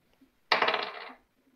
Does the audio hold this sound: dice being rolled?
yes